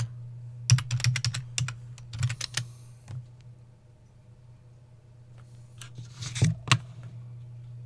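Typing on a computer keyboard: close, crisp key clicks in quick bursts, then a pause and another short flurry of keystrokes, with no voices.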